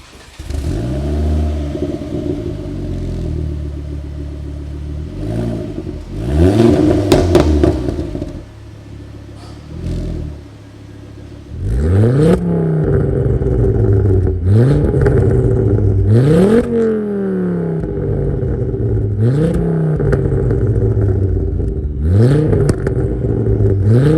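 A Ford Focus RS MK2 fitted with a Milltek exhaust starts up and idles with a deep burble, then revs repeatedly, climbing to loud, rasping peaks that fall back between blips, close and without talk.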